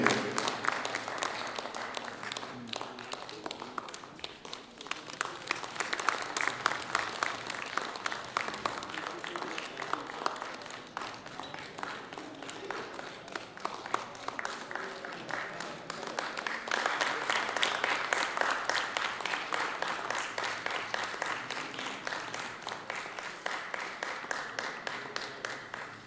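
Audience applause at a Hindi-Urdu mushaira poetry gathering, steady dense clapping from a crowd running throughout with surges in intensity, voices mixed in underneath.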